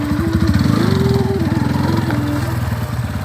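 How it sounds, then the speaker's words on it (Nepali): Motorcycle engine running steadily up close while the rider turns the bike around, a loud continuous engine drone with small shifts in pitch and no talk. "म चाहिँ अब यहाँ बाइक फर्काउँछु"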